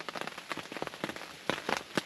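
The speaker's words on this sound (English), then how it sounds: "it's raining and it's cloudy" Cold rain, just above freezing, falls on an outdoor mule deer hunt in Southern California, tapping as a close, irregular patter of drops on a surface.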